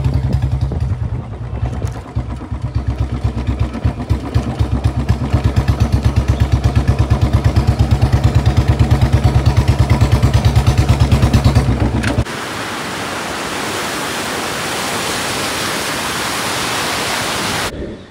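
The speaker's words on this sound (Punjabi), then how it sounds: "ਬੁਲਟ ਰਾਈਡ ਤੇ ਆਏ ਸੀ ਕਿ ਨਵਾਂ ਨਵਾਂ ਬੁਲਟ ਲਿਆ ਵਾ" A newly bought Royal Enfield Bullet motorcycle rides along with a steady, loud engine thump for about twelve seconds, then gives way to a broad rushing wind roar, with no talking.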